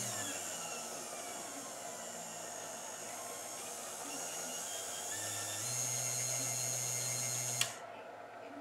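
A worn Allen Bradley 855BM-ARA24 rotating beacon motor runs with a steady, close electric whine and hum for several seconds, its pitch shifting slightly, then cuts off abruptly with a small click.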